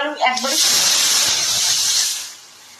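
A pressure cooker of freshly cooked rice lets off steam in a loud, continuous hiss that fades at the end, with a brief voice at the start.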